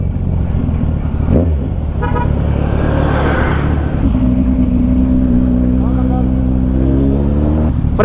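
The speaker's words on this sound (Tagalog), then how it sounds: "Yung busina, sumasabit." A stuck horn on a Kawasaki Ninja 1000SX motorcycle blares repeatedly over the running engine, held in long sustained tones, loud and close, with voices breaking in.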